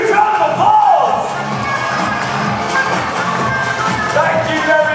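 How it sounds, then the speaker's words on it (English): An audience at a Blackpool Haven holiday park evening show claps and cheers at the end of the performance, a moderately loud crowd noise with scattered whoops and a voice briefly rising over it. "please give yourselves a huge round of applause"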